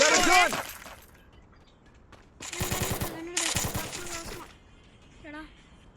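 Two rapid bursts of automatic gunfire from the video game Free Fire, loud and close, with brief voices talking before and after.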